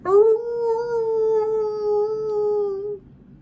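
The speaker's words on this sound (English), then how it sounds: "Howling arises." A single long werewolf howl, a loud, close, wavering tone that holds steady for about three seconds before cutting off, with no speech.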